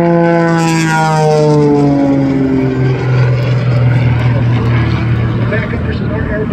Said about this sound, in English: he gets back up into this airplane called a Pit Special